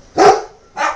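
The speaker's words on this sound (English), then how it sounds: "You don't need to bark just because she is." Two loud, close dog barks indoors, a sharp bark followed by a shorter one after a short gap, with no talking.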